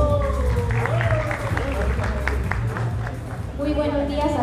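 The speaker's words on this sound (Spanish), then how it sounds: "para quien pido fuertes aplausos" Applause and crowd noise from an audience at a departmental carnival queen candidates' presentation, greeting the reigning carnival queen; steady clapping and babble fill the clip, with a voice speaking over it.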